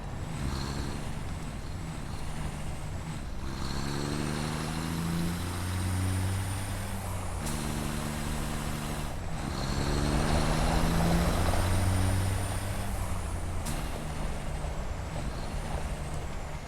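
A heavy truck in a video game rumbles with a steady engine drone, its gears whining up and down in repeated cycles, punctuated by sharp hissing air-brake releases, with no talking.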